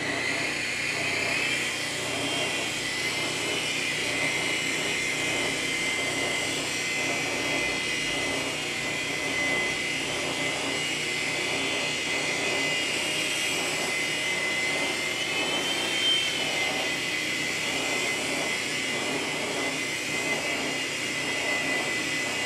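A LiteHawk II drone flies in slow mode, giving a steady, fairly faint whining buzz of small propellers that holds at an even level throughout with slight wavering in pitch.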